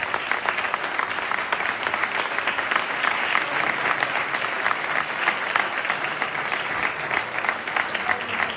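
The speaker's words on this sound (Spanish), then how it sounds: "Un fuerte aplauso para Luis y para Isabel Gemio." Sustained audience applause for Luis and Isabel Gemio at a winter literary colloquium presentation in Alburquerque, a dense, even wash of many hands clapping that continues steadily throughout.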